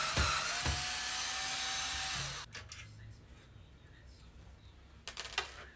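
A whining power screwdriver unscrews a graphics card from a PC case, running loud and steady for about two seconds and then stopping, followed by quieter handling clicks and a voice speaking.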